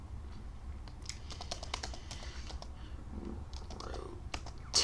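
Fingers typing code on a computer keyboard, a quiet, close run of uneven key clicks in quick bursts with brief pauses and a sharper click at the end.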